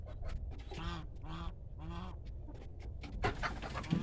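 Domestic geese honk in a farmyard, several loud nasal calls in quick bursts close by, with other fowl clucking and scuffling in the background.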